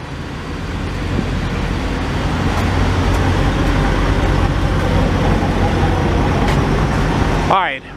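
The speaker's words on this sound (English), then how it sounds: "The guy's truck is running back there. It's kind of noisy" A truck engine idles nearby at a flatbed truck stop, a steady loud low rumble that fills the whole stretch, with a brief higher scrape or squeal near the end.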